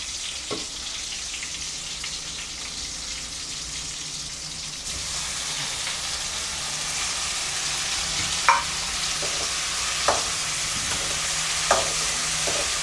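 Onions and tomatoes sauté in oil for a Chettinad brinjal curry, giving a constant bright sizzle broken by a few sharp spoon taps against the pan, with no voices.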